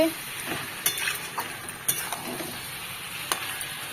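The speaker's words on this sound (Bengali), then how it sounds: "আমি মাংস বসিয়ে দিয়েছি আর এটা কষা হচ্ছে" Meat braising in a pan on a home stove, a soft steady sizzle with occasional sharp clinks and scrapes of a spoon stirring against the pan.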